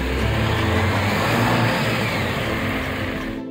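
A Jeep on level ground accelerates to about 15 mph and then stops suddenly, its mid-pitched engine steady and loud throughout before cutting off abruptly at the end.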